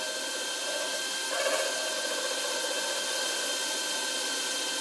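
A lathe tool cutting an acrylic slimline pen blank, giving a steady continuous whirring, hissing drone with a faint shift in tone partway through, close and unbroken.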